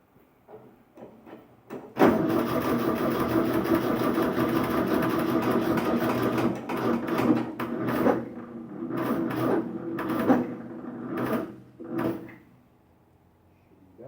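Engine of an old $200 forklift cranking and catching, a loud ragged running clatter that surges and stumbles several times before dying out, close by.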